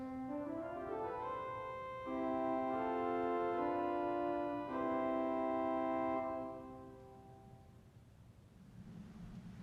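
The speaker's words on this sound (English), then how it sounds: "It's called a diapason or a principal pipe." A principal (diapason) stop on the Kotzschmar municipal pipe organ sounds a steady held chord of pure, rich tones that shift through a few changes of notes, then releases into a short fading reverberant tail.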